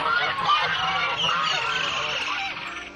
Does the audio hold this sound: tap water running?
no